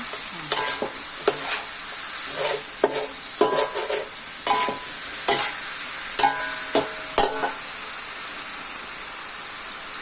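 Pork with sweet peppers stir-fries in a pan after seasoning and sugar are added; an even background sizzle carries a rhythmic series of spatula clanks and scrapes in the first seven seconds, then fades to sizzle alone.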